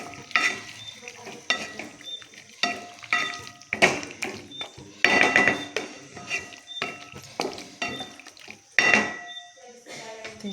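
Mutton is stirred in a cooking pot with repeated rhythmic scraping strokes about once a second, a light sizzle and utensil clatter between them.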